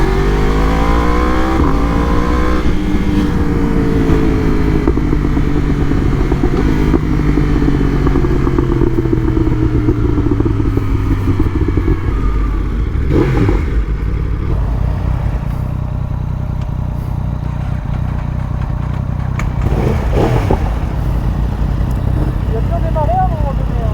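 A motorcycle engine, a bike that keeps breaking down, revs and runs loudly and continuously close by, with rising and falling pitch sweeps as the throttle changes, under a voice speaking throughout.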